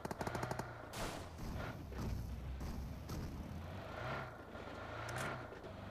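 Rapid bursts of automatic gunfire in a mobile video game, a fast rattling volley at the start, then a steady roar of repeated shots and engine-like rumble throughout, with no talk.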